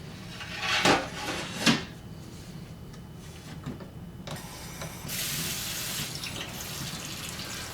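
Tap water runs to rinse xTool S1 laser engraver parts in a sink, a steady hiss with clinks of parts and dishes, rising louder in the last few seconds.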